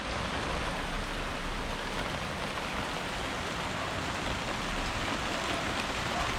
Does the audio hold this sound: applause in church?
no